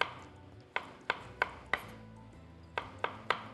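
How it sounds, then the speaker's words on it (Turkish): Knife dicing tomatoes into small cubes on a board, a series of sharp, close chopping knocks in an irregular rhythm, with no talking. "Bunları küp küp doğrayalım."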